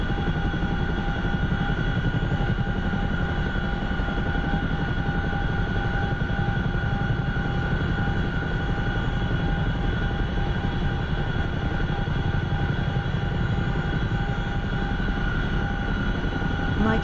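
Steady helicopter turbine whine and rotor drone from a DCS flight simulator, loud and unbroken throughout, with tonal engine hum layered over a broad low rumble.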